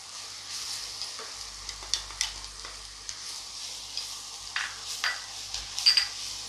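Onion with turmeric and chilli powder sautés in a pan for Konkani-style karandi tawa fry: a soft, quiet sizzle broken by frequent sharp scrapes and taps of a spatula stirring the mixture.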